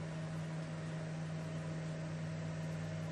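A microwave oven, fitted with a new mica plate, runs with a cup of water inside. It gives a steady, even electrical hum with a constant low drone, and there is no crackle or sparking. No one speaks.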